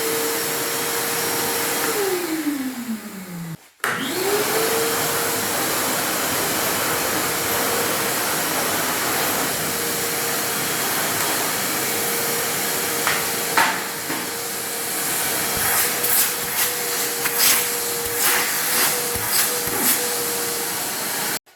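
A DeWALT 6-gallon wet and dry shop vacuum whines loudly and close, winds down, cuts out briefly, then spins back up and runs steadily, with a few handling clicks and knocks late in the run.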